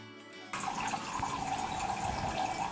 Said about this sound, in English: Measure 136 grams of distilled water.